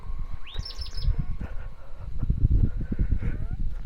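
Several birds chirp and tweet around a quiet road through a Karnataka village, bright short calls scattered over a low rumbling background of outdoor noise.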